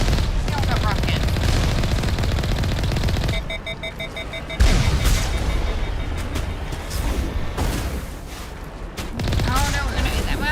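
Gunfire and rocket blasts in Mass Effect Legendary Edition, with dense rapid shots and a sharp boom near the middle, all loud and continuous, under game voices talking.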